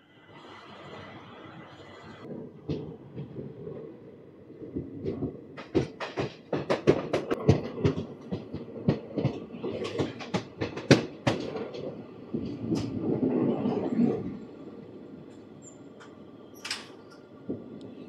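The Tirupati–Kakinada Town Express (17249), just departed from Srikalahasti railway station, rolls along with rising rhythmic clickety-clack of wheels over rail joints and rumbling carriages, loud and close, then easing off, with no talking.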